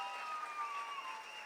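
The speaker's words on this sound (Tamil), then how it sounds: "நம்ம இசைக்குழுவினருக்கு நல்ல கைத்தட்டல் கொடுத்துடலாம்" Applause for a folk music troupe at a TVK political stage event, a steady wash of crowd clapping mixed with sustained musical tones throughout, with no speech.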